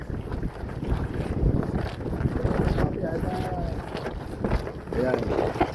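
Steady, loud wind buffeting close to the microphone at a moto camping site in Nagcarlan, Laguna, a constant roar with gusty rumble throughout and faint voices underneath.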